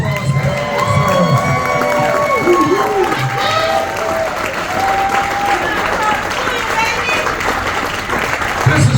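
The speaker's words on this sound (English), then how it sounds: "Let's give them a big round of applause." Audience at a ring ceremony breaks into sustained applause and cheering, loud and close, with some shrill shouts throughout.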